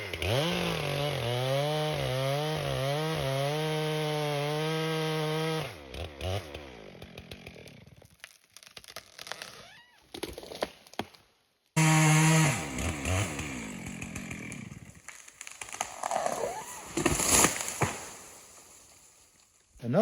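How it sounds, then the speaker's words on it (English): A chainsaw cuts through a standing tree trunk to fell it, running loud and steady at full throttle, then dropping to idle with broken revving, a brief silence, and a final burst of sawing as the tree goes over. "Let's finish cutting this tree over and watch it fall down."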